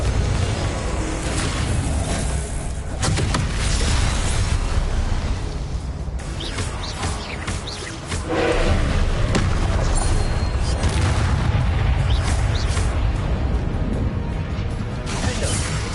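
Repeated booming blasts from Confringo blasting curses in Hogwarts Legacy, loud and continuous, with crashes and rumbling impacts layered over a dense game soundscape.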